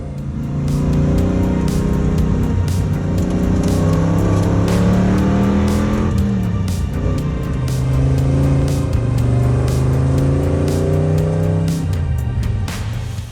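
A 1965 Ford Mustang notchback prepared for rally and track use, its small block Ford 289 high performance V8 revving hard through gear changes, loud and close with rising and falling engine pitch and sharp clicks, no voices.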